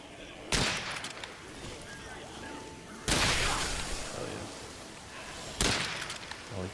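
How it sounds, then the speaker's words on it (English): Three heavy explosive blasts from the shooter game DOOM: The Dark Ages, spaced a few seconds apart, each a sharp loud impact with a decaying tail over constant game noise and talk. "I like the headshot explosion sound."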